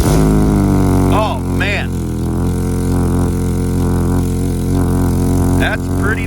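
A GMC Terrain engine running with a blown-out exhaust resonator, a loud, steady, rough low drone up close throughout, with someone briefly speaking over it.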